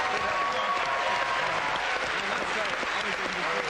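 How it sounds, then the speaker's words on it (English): Studio audience applause for the graduates team on a 1992 celebrity University Challenge quiz show, dense steady clapping throughout with faint voices mixed in. "So well played, the graduates. Applause for them."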